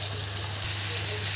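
Chopped onions frying in a pan for Egyptian koshari, giving a steady, even sizzle with a low hum underneath that runs unbroken through the whole moment, with no one talking.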